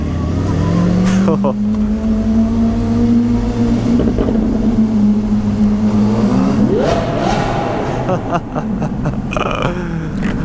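A Lamborghini Aventador engine roars close by, holding a steady drone and then climbing sharply in a revving surge, with voices faintly underneath.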